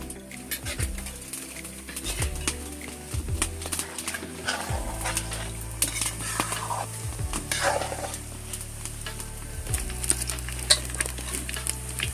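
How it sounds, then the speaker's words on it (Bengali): Boondi drops frying in a pan of hot oil, a steady crackling sizzle with stirring and scraping against the pan, close and continuous with no talk. "বোঁদেগুলো এবারে ভাজা হয়ে গেছে, তুলে নেব"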